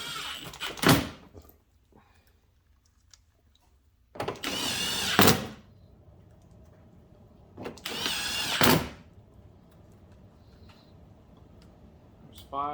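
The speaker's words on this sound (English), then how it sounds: "Then we'll take our 7mm socket and we'll put these back in" A power driver with a 7mm socket runs in short bursts, three times, driving exhaust bracket bolts back in on a 2016 Cadillac ATS, with quiet pauses between the whirring bursts.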